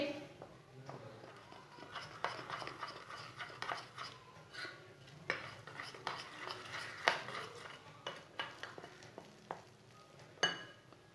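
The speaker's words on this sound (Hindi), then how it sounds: "इसे अच्छी तरह मिक्स करना है, इसमें गुठलियाँ नहीं रहनी चाहिए।" A spoon stirs gram flour batter with salt, red chilli and coriander powder in a bowl, giving soft scraping clinks in an irregular rhythm at low volume.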